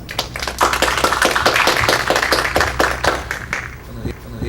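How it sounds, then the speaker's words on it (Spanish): Conference audience giving strong applause to welcome a speaker presenting on GIS risk scenarios: brisk, dense clapping that stays loud for several seconds, then tapers off. "al cual lo recibimos con unos fuertes aplausos"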